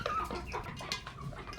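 A hen clucks softly in a few low, irregular clucks amid scratchy background noise, close by and fairly quiet, with no talk.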